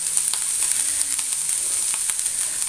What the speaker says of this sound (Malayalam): ഒരു പിടി നാളികേരമുണ്ട്, അതൊന്ന് വറുത്തെടുക്കാം